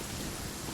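Rain falling in the video game Genshin Impact, a soft, steady hiss of drops with a faint low rumble beneath, quiet and continuous.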